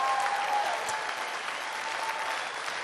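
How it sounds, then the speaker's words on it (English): A congregation at a church conference session applauds in a dense, sustained wash of clapping that carries on evenly throughout, with a faint whistle near the start. "let's give the Lord a clap"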